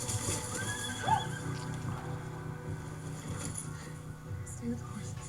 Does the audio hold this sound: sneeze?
no